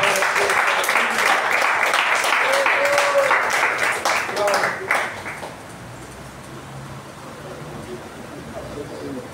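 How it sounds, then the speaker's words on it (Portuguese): Church congregation at a Sunday family service clapping to welcome the preacher, a dense burst of applause that fades and thins out after about five seconds, with faint murmuring beneath. "vamos receber o servo de Deus com as palmas bem alegres para Jesus"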